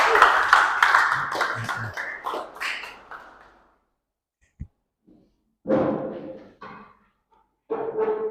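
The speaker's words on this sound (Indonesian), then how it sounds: "Beri tepuk tangan yang meriah untuk kelompok 2." Classroom applause for a presenting student group during a Pancasila lesson: a few seconds of fairly loud, dense clapping that tapers off, then a single tap and stretches of speech.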